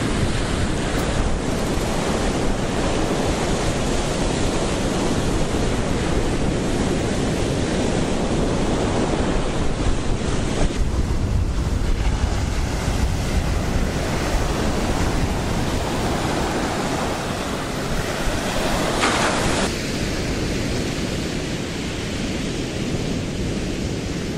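Steady wind and rolling ocean surf on Ninety Mile Beach in Gippsland, Victoria, a constant loud roar of breaking waves mixed with gusting wind buffeting the microphone, with no voices.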